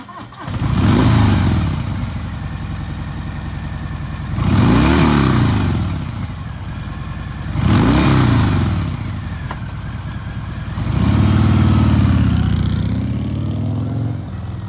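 A used 2020 Harley-Davidson FLSB Sport Glide bagger with a 107ci V-twin revs four times in succession, each throaty surge rising and falling over a steady idle, loud and close.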